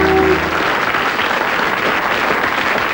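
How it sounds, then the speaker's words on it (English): Studio audience applauding on a television quiz show, a dense, steady wash of clapping that fills the whole stretch at close range, with a brief tonal trace at the very start. "Round of applause for Thing."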